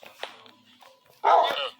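A tamed dog in the Minecraft video game lets out a loud bark burst near the end, after a stretch of quieter background sound.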